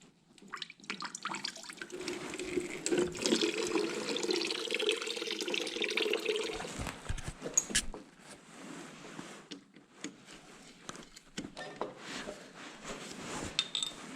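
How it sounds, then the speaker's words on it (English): Coolant draining from an old crashed junkyard Honda CBR 125 motorcycle: a steady trickle and splash of liquid, fairly loud and close for the first several seconds, then thinning to scattered drips and small splashes. "I hate draining the coolant."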